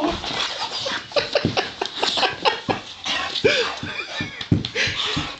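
A puppy whimpers and yips in short, high bursts close by, repeated throughout amid light household noise.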